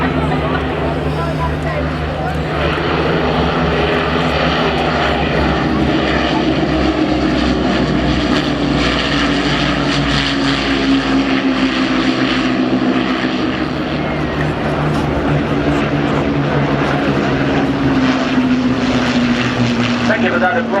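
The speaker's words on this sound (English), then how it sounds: "Engines going into fine pitch" An Avro Lancaster bomber's propeller engines drone loudly and steadily overhead at an air show, the engines going into fine pitch with a rising, sustained roar that fills the whole stretch, and a commentator talks over it.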